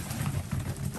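Racing pigeons cooing softly in a loft as feed is scattered to them the day after a race, a low steady murmur of several birds close by.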